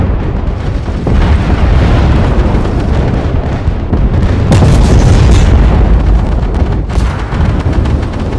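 A tank gun shot fired at a Merkava tank in a video game on a starry-night map, heard as a loud, dense blast with a heavy rumbling boom swelling near the middle amid continuous battle noise.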